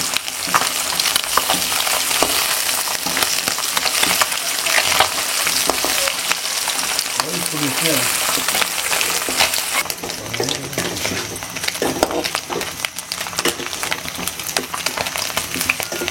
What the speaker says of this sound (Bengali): আর এই মাছটা ভাজা হয়ে গেছে